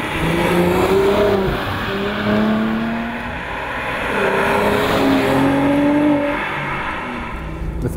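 Mercedes-AMG C 43 Convertible driving hard, engine droning and shifting pitch as tires squeal in long rising and falling whines, loud and close with no talk.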